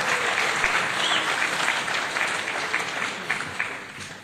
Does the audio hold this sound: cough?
no